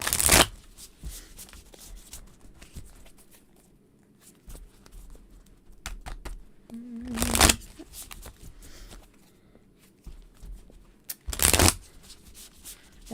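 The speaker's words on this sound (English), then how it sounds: "I love the way this deck shuffles" A tarot card deck being shuffled by hand, with soft, smooth riffles and pattering under quiet room tone and two louder bursts of card shuffling, close by and with no speech.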